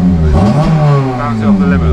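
A Honda Civic FN2 Type R fitted with a Japspeed exhaust manifold revs hard up to the limiter, engine tone rising and falling in a loud, close burst while someone talks over it.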